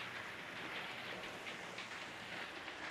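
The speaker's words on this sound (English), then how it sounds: "Now it's chucking it down outside here today" Heavy rain pouring down outside, a steady dense hiss of falling water heard alone at a moderate distance, with no breaks.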